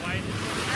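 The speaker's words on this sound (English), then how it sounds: "The water is loud." Loud, continuous rushing water spilling in from a video game, a dense roaring wash that fills the short moment with no pause.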